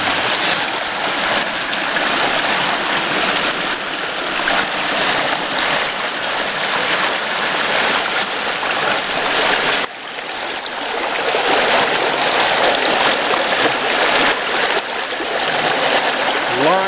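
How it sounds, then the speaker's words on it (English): Creek water rushes steadily through a gold prospecting sluice box on Overflow Creek, a loud continuous close-up gurgle and splash that holds for the whole stretch with only a brief dip midway. "Water's going pretty well"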